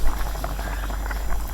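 Chicken simmers in its own released water in a covered pot for shami kabab, giving a steady, fairly loud bubbling hiss with a low hum beneath and no pauses.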